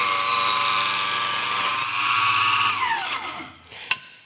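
Chop saw cutting through wood, a loud whining blade that spins down in pitch after the cut, ending with a sharp knock near the finish.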